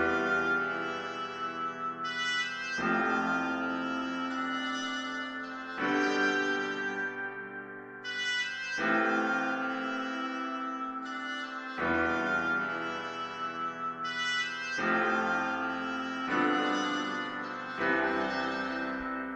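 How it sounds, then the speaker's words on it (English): Playback of an orchestral sketch: an oboe melody carried over sustained piano chords, steady and moderately soft, with phrases changing every few seconds and no voices. "is the melody in the oboe and then just the chords in the piano."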